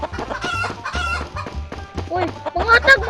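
Chickens cluck and a rooster calls nearby in a farmyard, with repeated short, throaty clucks in a steady rhythm and a louder outburst at the end, along with faint background voices.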